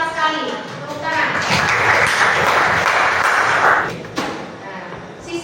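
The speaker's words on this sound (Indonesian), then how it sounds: "Tepuk tangan." A classroom of students bursts into brief applause during a lesson, a dense wash of clapping lasting a few seconds before it quickly fades into murmuring and light shuffling.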